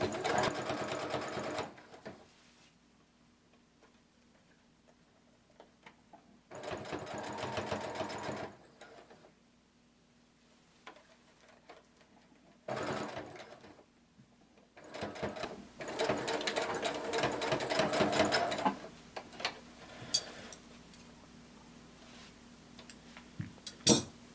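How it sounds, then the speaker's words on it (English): Sewing machine stitching a seam on a sequin cardigan, running in several separate bursts of steady whirring with quiet pauses between, the longest run near the end, close and fairly loud. "I'm going to sew from the center to the end, and then we'll go from the center to the other side"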